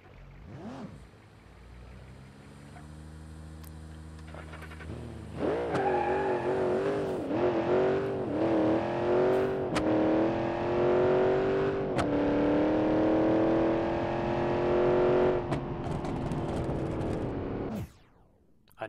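Simulated car in BeamNG.drive accelerating hard on nitrous, a loud sustained engine roar that climbs steadily in pitch over about ten seconds before cutting off abruptly near the end.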